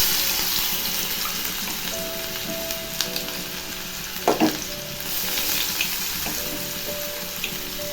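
Garlic and chopped ginger sizzle in hot white oil, a steady crackling fry with a few stirring scrapes and clinks of a utensil against the pan, close and without talk.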